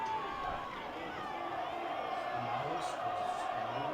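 A high school football crowd at a state semifinal game between Central and St. John's, a steady distant murmur of spectators with faint cheers under a commentator's voice.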